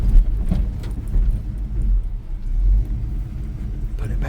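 A Chevy C10 pickup truck's engine rumbles steadily while driving, a deep, continuous low-pitched drone that swells and eases slightly, loud and close, with no one talking.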